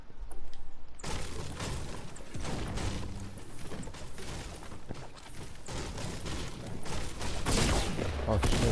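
Rapid gunfire rattles through a 2017-era round of Fortnite, dense bursts of loud, close shots and mechanical clatter running almost nonstop after a quieter opening second.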